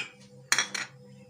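A metal spoon clinks twice against the side of a pot while stirring a creamy cake filling with butter and vanilla, two sharp close knocks amid quiet.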